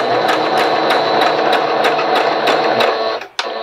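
Loud, close stitching from a sewing machine sewing a reusable fabric face mask, with a steady rapid needle rhythm that cuts off near the end before a short click, and no talking.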